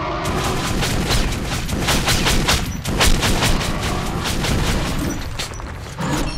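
Shotgun blasts in the first-person shooter Metro: Last Light, loud, dense and booming, running almost without pause and layered with rattling combat noise, with one brief break near the end.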